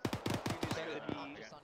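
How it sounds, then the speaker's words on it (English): Rapid bursts of automatic gunfire in the ARMA 3 video game, several quick volleys of shots in a row followed by a lone pair of shots, fairly close and crisp, then fading into quieter ambience. "I heard more shots out northwest"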